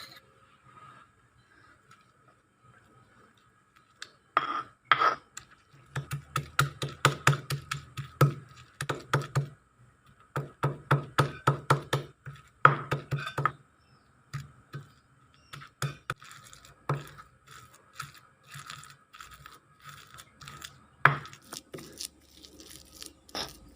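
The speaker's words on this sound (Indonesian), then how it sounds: "Selanjutnya, tempe yang sudah direbus tadi akan saya haluskan." Boiled tempeh is mashed by hand for combro, producing irregular bursts of close, crisp tapping and crunching strokes separated by short pauses, with no talking.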